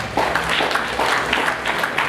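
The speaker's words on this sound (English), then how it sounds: "I think we can clap for him for that." An audience at a Rotaract club installation in Kampala gives brief applause for the club president, a short burst of clapping in the room with no speech over it.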